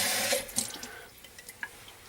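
Tap water runs into a kitchen sink while tomato seeds are rinsed, a brief loud gush in the first second, then thinning to faint drips and small splashes.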